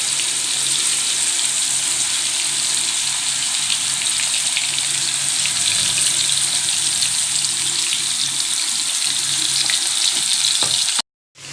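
Chicken pieces deep-frying in hot oil for restaurant-style butter chicken, a steady dense sizzle and crackle running loud and unbroken, then cutting off abruptly near the end.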